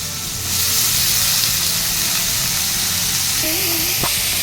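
Potatoes dropped into hot oil after mustard seeds have popped, starting a loud, steady hiss and sizzle that carries on to the end, with a faint short tone near the end.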